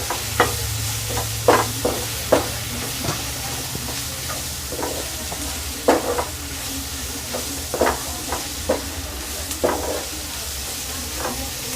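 Masala frying in a pan for egg bhurji, a steady sizzle punctuated by irregular knocks and scrapes of a spatula stirring, fairly close, with no voices.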